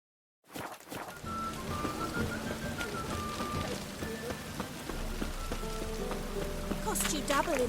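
Steady rain falling in The Witcher 3 game world, a constant patter on surfaces with occasional footsteps and a character's voice over it.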